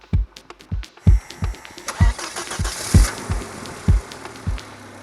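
A freshly rebuilt car engine cranks with a series of sharp, rhythmic turnovers, then catches and settles into a rough, steady running hum, close by.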